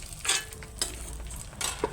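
Paneer frying in a pan, with a soft sizzle broken by three or four quick scraping stirs of a utensil, close and fairly quiet.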